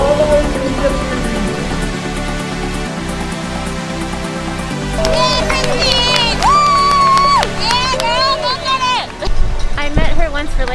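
A roadside crowd cheers and shouts for athletes at the Arizona 70.3 Ironman race, with loud sustained whoops and whistles over a busy din and music-like tones.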